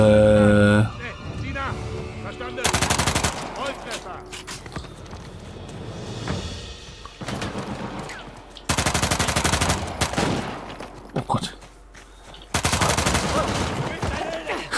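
Bursts of automatic gunfire ring out in the video game Uncharted: The Lost Legacy, with three or four loud sustained volleys separated by quieter game sounds, while a player talks over the action.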